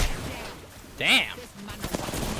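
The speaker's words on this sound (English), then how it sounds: "I am taking fire, friends." Bursts of gunfire in a sci-fi online shooter game, a sharp loud crack standing out near the middle with scattered quieter shots around it, mixed with game effects and a voice talking.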